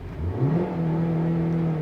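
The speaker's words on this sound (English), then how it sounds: "At a standstill, you are not allowed to rev the motor till the rev limiter." A 2022 Maruti Suzuki Baleno Alpha with a manual gearbox revs at a standstill, the engine note climbing quickly, then holding at a steady high drone, close and clear with no voices.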